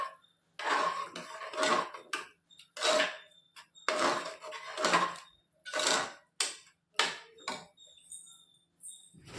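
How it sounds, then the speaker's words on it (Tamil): A ladle works through thick sambar rice in a pot, producing repeated bursts of wet, scraping stirring strokes separated by short pauses. "இப்போ இதை வந்து ஒரு கிண்டு கிண்டி விட்டுறேன்"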